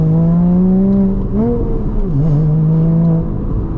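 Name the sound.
Porsche Boxster engine revving loudly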